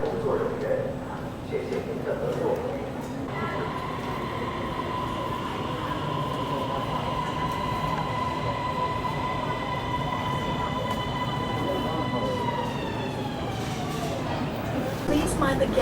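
A Bangkok metro train rumbles steadily with a rising electric motor whine and tonal hum, wheels rolling beneath, then the whine drops as it slows.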